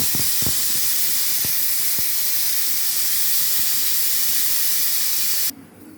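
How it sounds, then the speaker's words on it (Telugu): A kitchen pressure cooker releases steam in a loud, continuous hiss with a few faint clicks, and the hiss cuts off abruptly near the end. "మూడు విజిల్స్ అయితే వచ్చినాయి ఫ్రెండ్స్"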